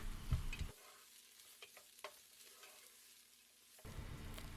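Vegetables dropped into a pan over onions: a burst of sizzling at the start and the end, with scattered scrapes and taps of stirring in a quieter stretch between.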